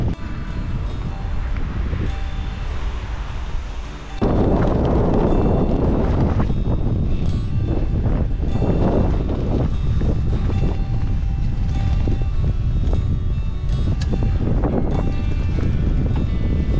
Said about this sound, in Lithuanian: Su saule Austrija pasitinka, bet ir su vėju.